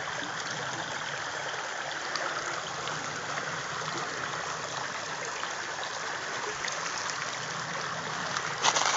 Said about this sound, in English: we got a squirrel over here knocking the water off the trees